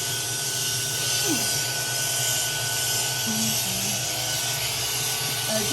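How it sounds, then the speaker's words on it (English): A vacuum cleaner runs while a dog with a matted coat is shaved with clippers, a constant, even whooshing drone filling the whole span, with faint brief tones over it. "The sound of the vacuum cleaner, so that adds another element of difficulty."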